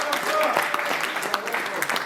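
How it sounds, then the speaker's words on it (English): Audience at a Nigerian symposium applauds in a steady, dense wash of clapping for the full two seconds, with a murmur of voices mixed in. "Please give one more round of applause for everyone."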